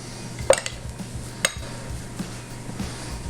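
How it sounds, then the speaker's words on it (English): A spoon stirs lime juice into fresh salsa in a bowl, giving a few sharp clinks of utensil against dish followed by softer scraping taps, close by and with no talking. "Squeeze the lime in there, give that a stir around,"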